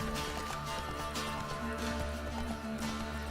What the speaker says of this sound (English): there is a horse chasing me